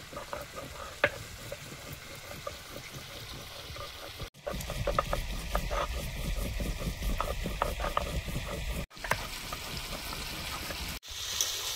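Chicken being braised (kosha) in a pan, a continuous close sizzle with frequent spatula scrapes and clicks, briefly cut off twice, with no talking.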